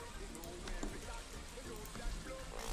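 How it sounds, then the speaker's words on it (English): Steady dense patter of rain in Stardew Valley, fairly loud and constant, with a voice murmuring faintly underneath. "Why is the rain so loud?"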